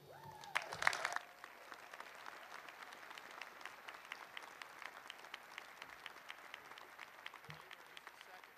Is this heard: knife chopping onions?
no